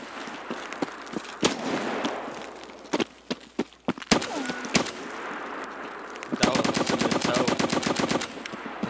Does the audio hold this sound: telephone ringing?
no